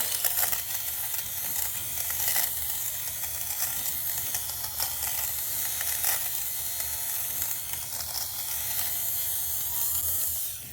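An electric fabric shaver buzzes continuously as it removes pilling from a white couch, a close, even whirring hiss with slight rasping variations as it passes over the fabric.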